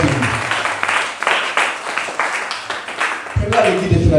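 Church congregation breaking into applause and cheers to acclaim the Lord, a dense wash of clapping mixed with voices, swelling and staying loud throughout.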